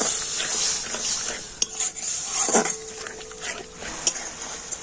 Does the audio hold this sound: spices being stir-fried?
yes